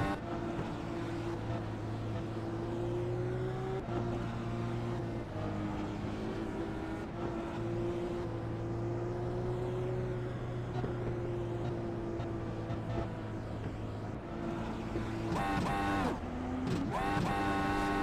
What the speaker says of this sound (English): You hear it there, the way they rev their engine, that is going to get their fuel down.